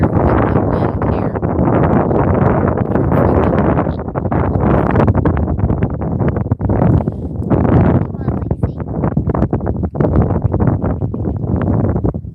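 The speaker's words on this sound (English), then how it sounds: "It's hard to hear with the wind here." Strong wind buffets and roars across a boat at anchor in Fiji, gusting continuously and loudly. Voices are faintly audible beneath the wind noise.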